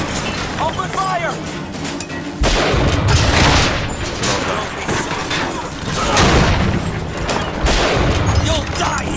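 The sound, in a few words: gunfire in video game BioShock Infinite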